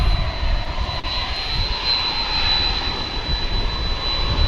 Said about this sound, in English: as the Frontier flight starts to roll.